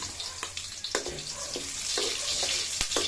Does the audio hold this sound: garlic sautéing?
yes